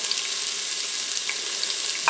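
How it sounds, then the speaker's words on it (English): Diced onions sizzle steadily in a hot Instant Pot, a bright constant crackling hiss with faint pops, close by and uninterrupted. "So we're going to put in some diced onions. It's already sizzling."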